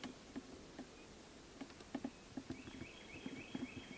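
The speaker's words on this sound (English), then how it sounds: "know if you guys can hear all the buzzing too" Faint, steady buzzing of bees flying around outdoors among wildflowers at an apiary, with soft scattered taps and a quiet high whine drifting in and out.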